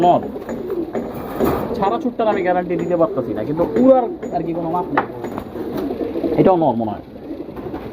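Two male pigeons coo in low, rolling bursts close by while people talk over them almost throughout.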